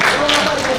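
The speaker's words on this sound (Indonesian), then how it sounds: "Boleh tepuk tangan sekali lagi." An audience at a Ramadan religious lecture gathering gives a brief burst of dense, loud applause for the ustaz, steady clapping throughout with no voices standing out.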